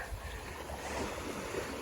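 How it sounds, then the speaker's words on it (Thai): A longtail boat engine rumbles near the beach at Koh Kradan, a low, distant drone half-buried in steady wind and surf noise. "นี่จะเรือหางยาวเพื่อมาส่งลูกค้านะคะ"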